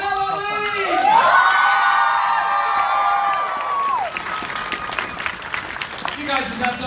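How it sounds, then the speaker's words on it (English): A convention panel audience at a comic con applauds and cheers for voice actors, loud clapping with whoops and shouts, while a high sustained tone rises and then falls through the first half. "Ladies and gentlemen, give a round of applause to the voice of Tikki, Miss Melody."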